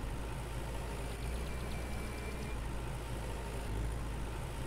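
A tractor engine drones steadily while driving in the Farmer's Dynasty farming video game, a constant loud low rumble with no pauses throughout.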